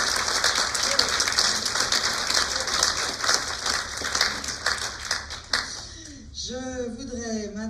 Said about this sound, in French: Et je vais vous demander de les applaudir, s'il vous plaît.